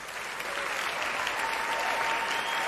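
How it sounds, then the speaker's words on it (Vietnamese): An audience at a Vietnamese televised singing competition applauds the contestants' performances, a loud, steady wash of clapping that holds for a few seconds with no voice over it. "Xin hãy dành một tràng pháo tay cho phần thể hiện của các thí sinh trong đêm nay."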